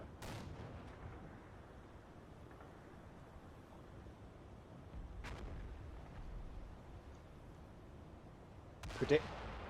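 Distant artillery fire and shell explosions in a war video game sound as a few dull booms spread over a low rumbling background, the last one louder.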